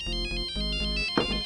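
A phone ringtone plays loud and close, a repeating electronic melody in short regular bursts that runs on without pause, with no one speaking over it.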